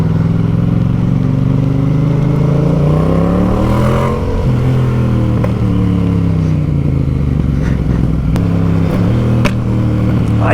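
Motorcycle engine accelerating up close, a loud steady rumble whose pitch sweeps up and down as the throttle opens, with a few clicks and clatters over it.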